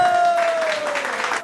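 A short burst of audience clapping at a small French village gathering in Vallères, dense and fairly close, over a steady background tone, honoring a guest named Jocelyne.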